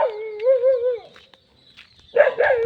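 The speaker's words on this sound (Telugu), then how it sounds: "ఇది మా మావయ్య వాళ్ళ పెంపుడు కుక్క" A pet dog kept at a country chicken farm gives two close bursts of whining, howl-like yelps, separated by a short silent pause.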